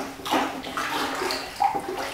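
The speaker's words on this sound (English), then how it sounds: "we're going to give it a quick stir" Pottery glaze being stirred in a bucket: a continuous wet swishing and sloshing of liquid, fairly close and steady, with a couple of brief splashy accents and no talking.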